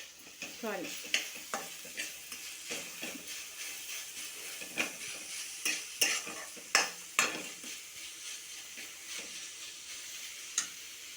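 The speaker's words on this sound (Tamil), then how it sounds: "நல்ல நெய்யில் வதங்கிடுச்சு. வதங்கின முருங்கை இலையை போடுவோம்." Drumstick leaves fry in ghee with a soft, continuous sizzle while a spoon stirs them in a regular rhythm, producing a series of close metallic scrapes and clinks roughly every half second to second.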